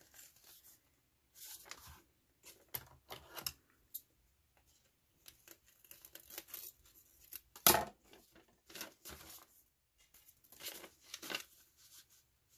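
Scissors cutting paper while making a Little Golden Book junk journal: close, quiet snips and rustling crinkles in short irregular bursts, separated by near silence.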